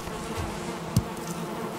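Beehives in the Valheim video game give off a steady, soft insect buzz, continuous and close, with a brief faint click partway through.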